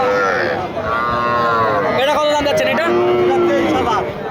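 A cow moos loudly nearby over a busy crowd murmur at the Panchbibi livestock market, its drawn-out low calls rising and falling amid market chatter.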